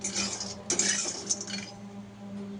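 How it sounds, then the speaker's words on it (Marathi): Peanuts dry-roasting in a kadhai over low flame, giving a steady rattle and clinking of shells against metal with occasional louder scrapes as they are stirred, a faint hum underneath. "नंतर मंद आचेवर शेंगा छान भाजून घेणे"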